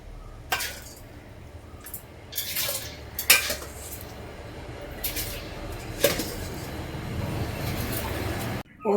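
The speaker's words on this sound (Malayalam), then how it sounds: "ഞാൻ അരി ഇടാൻ പോവുകയാണ്." Metal pots and utensils clink and scrape as rice goes into a large pot over a wood-fired stove, several sharp clatters spread over steady low background noise, close and fairly loud, with no talking.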